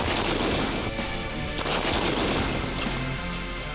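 Rapid gunfire crackles through a military fitness and shooting drill by an infantry brigade's mobile company, with dense overlapping shots and booming reports that stay loud and continuous throughout, without any talking.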